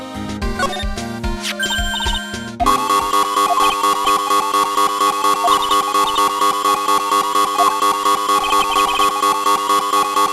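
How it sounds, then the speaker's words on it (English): A loud electronic emergency buzzer alarm tone in the video game Phoenix Wright: Trials and Tribulations starts partway through and repeats in a steady pulsing pattern, preceded by busy game music and effects. "What is that button anyway? An emergency buzzer."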